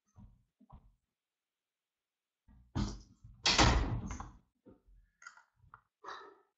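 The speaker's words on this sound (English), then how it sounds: "I'm going to shut this door real quick." A door swings shut indoors with a loud thump and rattle in the middle, preceded and followed by small handling knocks and clicks in a quiet room.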